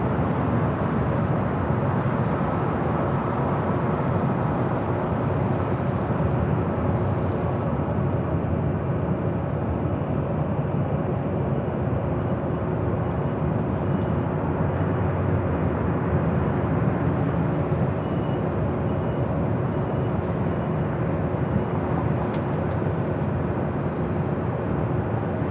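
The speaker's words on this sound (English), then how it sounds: "Here on the north side is Southwest Airlines flight 2565, committed from Phoenix on the 737-700." A Southwest Airlines Boeing 737-700 jet from Phoenix at LAX gives off a broad, steady roar that holds at an even, distant level throughout, with no voices.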